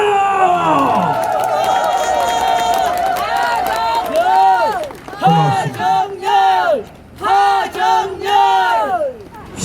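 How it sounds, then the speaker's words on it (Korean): A crowd at an election campaign rally cheers loudly, then breaks into rhythmic chanted bursts, each separated by short pauses. "함성과 박수 한번 주세요."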